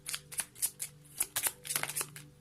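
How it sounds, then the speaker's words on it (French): Tarot card drawn from a deck during a reading, a quick run of soft papery flicks and slides, close and faint, with no talk. "on va demander une toute dernière carte pour le plan sentimental"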